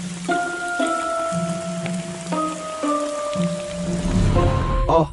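Rain falls steadily on a surface, a soft continuous patter that sits beneath sustained tonal music and swells slightly toward the end.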